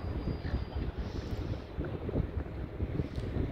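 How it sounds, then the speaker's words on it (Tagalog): Steady, blustery wind in Bunbury, Western Australia, rushing across the microphone, a continuous low rumble with gusts rising and falling throughout. "Ang hangin."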